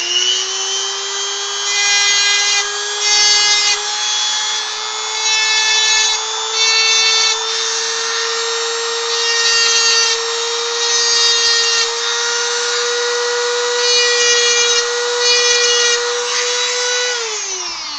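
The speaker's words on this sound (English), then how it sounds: "I have just a diamond bit on my Dremel, just a small, just like a cylindrical bit." Dremel rotary tool with a small cylindrical diamond bit cutting notches into knife pins, a loud steady high-pitched whine with grinding rasp that dips briefly as the bit touches and lifts, running continuously for about seventeen seconds before spinning down.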